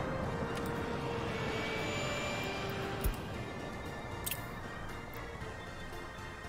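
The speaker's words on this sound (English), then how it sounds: "MIG-2021... Which, it's just a fighter jet." A MIG-2021 fighter jet in Workers & Resources: Soviet Republic gives off a steady, broad roar of jet engine noise, with a couple of faint clicks near the end and no speech.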